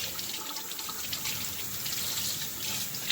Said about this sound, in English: So you're going to want to give them a good wash